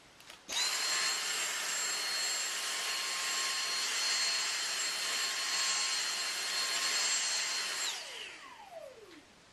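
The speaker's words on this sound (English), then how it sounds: "And we've switched over to the mini motorized tool" A Dyson DC59 Animal vacuum with its mini motorized tool cleaning carpet, switching on with a steady high-pitched whine and airflow roar that holds evenly for about seven seconds, then winds down with a falling pitch.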